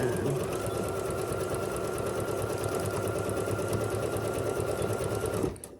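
A sewing machine with an automatic thread cutter runs a steady, continuous stitch, loud and close, for several seconds before stopping abruptly near the end.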